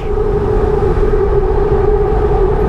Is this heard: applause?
no